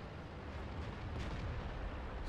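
A tank cannon in World of Tanks booms amid dense, steady rumbling battle noise, a continuous loud wash of low roar with no distinct voice over it.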